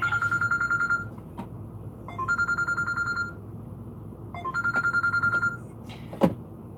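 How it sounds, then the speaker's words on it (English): A telephone rings in two clear bursts of electronic trilling separated by a pause, loud and close, followed by a sharp click near the end. "You just heard the phone ring twice."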